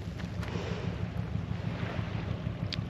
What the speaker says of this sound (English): Hear that boat out there.